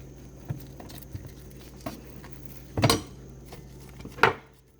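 Vegetables being sliced for crockpot balsamic chicken with Brussels sprouts, a few soft, irregular knife taps on a board close by, two sharper clacks standing out near the end.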